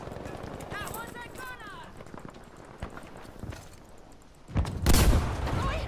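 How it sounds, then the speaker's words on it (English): Distant gunfire rattling in the background of Battlefield V multiplayer, scattered sharp cracks and a louder burst near the end, mixed with speech and other game noise. "All that background gunfire going off."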